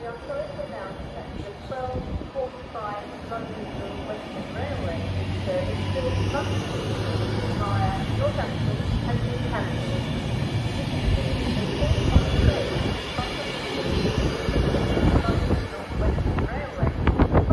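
A broken-down freight train sits at Birmingham International station on the West Coast Main Line, with a steady low rumble and hum of rail machinery under wind buffeting the microphone and occasional voices nearby.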